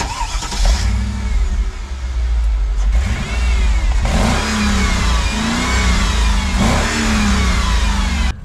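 A 2003 Mercedes-Benz G500 (W463) with dual-tip exhausts on each side revs up loudly and close by, rising several times in throaty bursts over a deep idle.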